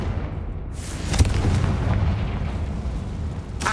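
A Confringo blasting spell in Hogwarts Legacy on Xbox Series X sets off a close, heavy explosion with a sharp burst and a rumbling tail, and a second bright crack lands near the end.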